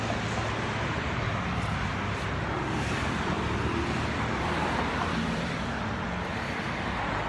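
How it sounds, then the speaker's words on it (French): Continuous road traffic noise from passing cars forms a dense, steady roar with no single vehicle standing out. "trop de bruit de voiture là"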